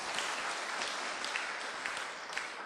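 Lecture audience applauding steadily throughout, a dense crackle of many hands clapping at a spiritual talk, fairly even in loudness with no voices over it.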